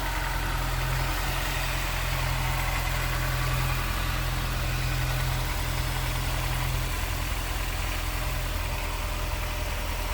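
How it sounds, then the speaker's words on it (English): A 2001 Honda S2000's 2-liter dual overhead cam VTEC engine idles smoothly and steadily, a constant close-up hum with a low, even drone and no revving or voices. "There it is, that 2-liter. Of course, dual overhead cam VTEC engine."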